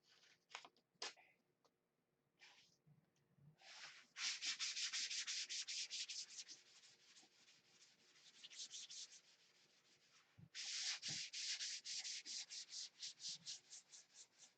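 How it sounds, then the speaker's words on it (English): Hand sanding on wood: a few short scrapes, then long runs of rapid, rhythmic rasping strokes, close and fairly loud, with a brief pause between bursts. "as you're sanding, you can hear it change tones"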